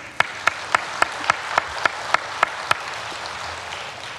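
A church congregation claps in an even rhythm, about ten sharp claps spaced evenly, then falls quiet into a soft room hiss.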